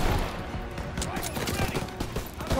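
Rapid gunfire from a World War II battle in the video game Call of Duty: WW2, a dense continuous burst of shots that runs straight through, with shouted voices mixed in.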